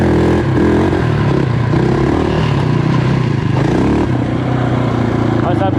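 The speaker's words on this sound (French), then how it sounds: "c'est un quad qui a énormément de coupe" A quad bike engine, a high-revving machine likened to a 700 Raptor, pulls hard and loud and close at a steady drone for the whole stretch, with clattering and people talking over it.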